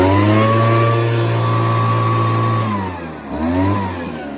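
A small motorized potato sprayer engine runs steadily up close, a loud droning hum with a brief dip in revs near the end before picking back up.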